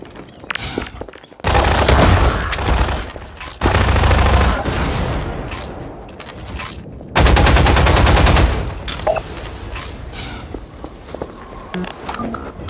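Automatic gunfire in Half-Life 2: Lost Coast, loud sustained bursts of rapid shots in two long volleys with quieter game noise and footsteps between.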